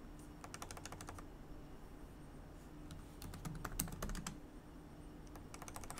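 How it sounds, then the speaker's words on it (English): Computer keys are tapped in quick bursts, clicks clustered at the start, middle and end with pauses between, faint and close with no talking. "we're going to type out"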